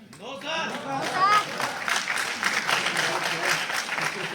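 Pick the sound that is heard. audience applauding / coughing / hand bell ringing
audience applauding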